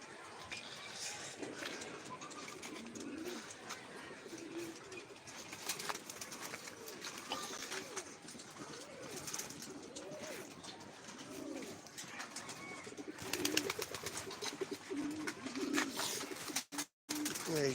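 Pigeons released in the afternoon, soft cooing repeating over a quiet outdoor background, with occasional rustles and faint voices in the distance.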